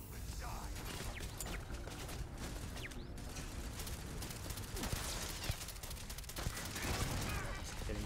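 Rapid hip-fired pistol shots in the video game Starfield ring out in quick bursts of sharp cracks with mechanical clicks, mixed with game effects and some faint speech.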